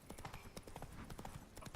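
Horse hooves clip-clop in a quick, steady rhythm as the animal moves in a heavily modded video game, close and fairly prominent.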